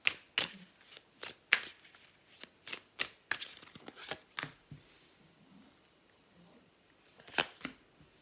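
A deck of tarot cards is shuffled nearby in a quiet room, making a series of crisp riffling bursts and soft slaps in an uneven rhythm, with a pause before a final couple of shuffles.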